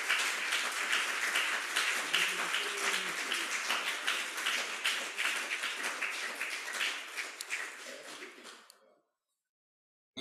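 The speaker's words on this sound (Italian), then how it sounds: "questo è stato un bel applauso" Sustained applause from a lecture audience at a pediatric medical conference, dense clapping filling the room at steady loudness for about nine seconds before cutting off abruptly into silence.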